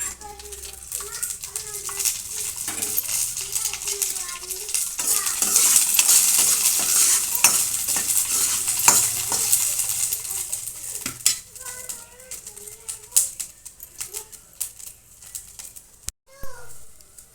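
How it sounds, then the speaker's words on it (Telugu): Okra frying in a little oil in a pan for a spicy Rayalaseema dish, soft sizzling with stirring and utensil scrapes against the pan, close, with a voice talking at times and a faint bird in the background. "కొంచెం ఆయిల్ వేసుకొని వేపుకోవాలండి."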